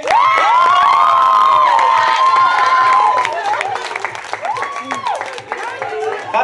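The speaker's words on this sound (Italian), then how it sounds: "Ragazzi, un bel applauso per Simone!" A crowd at a Women's Day party cheers loudly with high shrieks and whoops over clapping, strongest at first and then easing into scattered shouts and chatter.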